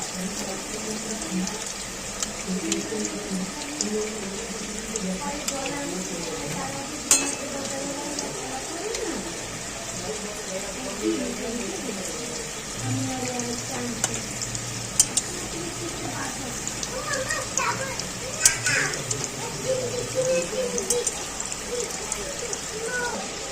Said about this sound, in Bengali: দেখো, এপিট ওপিট ভালো করে লাল লাল করে ভাজা হয়ে গেছে বড়াগুলো।